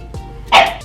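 A small pet dog gives one sharp, close yap after a brief soft whine, loud and alone.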